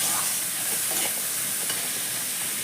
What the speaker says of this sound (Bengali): এবার মশলাটাকে এই সব কিছু বাদাম, নারকেল, কিশমিশ এটার সঙ্গে সুন্দর করে একটু কষিয়ে নিতে হবে।